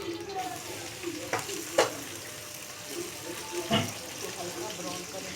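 Chopped onions fry in oil in a karahi for chicken karahi, giving a steady, close sizzle broken by a few sharp clinks and scrapes of stirring.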